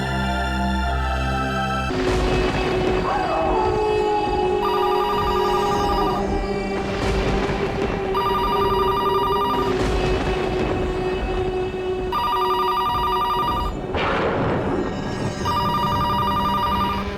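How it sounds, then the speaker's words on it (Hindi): A telephone bell rings in repeated bursts, loud and close, in a quiet room at night, sounding alone with no talk over it. "दिन में तो कभी फोन की घंटी बजती नहीं।"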